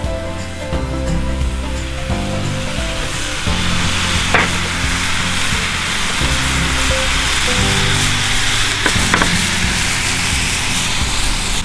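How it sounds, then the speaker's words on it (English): Minced celery and onion frying with browning venison sausage in a pan, a loud, steady sizzle running throughout with occasional scraping, no voices. "We're gonna go ahead and throw in what we have is some minced celery and some minced onion."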